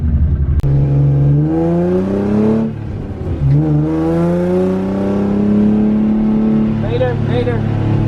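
A 1989–1990 Nissan S13 revs hard under throttle while drifting, its engine note sweeping up and down loudly and close, with a voice talking over it.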